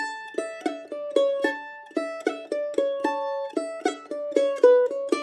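Bright plucked mandolin notes in a quick lilting rhythm, each attack ringing briefly, with a tiny flicked note tucked between some of the main ones.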